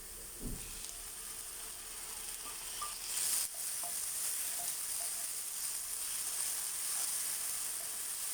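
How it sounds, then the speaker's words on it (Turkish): Onions and tomato fry in a pan with a steady, close sizzle throughout, a few faint clicks and a brief clatter of stirring near the start and middle, no voices. "Soğanlarım pembeleşinceye kadar kavuracağım."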